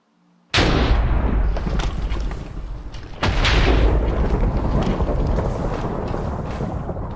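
Minecraft lightning strike: a sudden loud booming crack at about half a second that rolls into a sustained rumble, with a second heavy crash around three seconds, then a continuing roar.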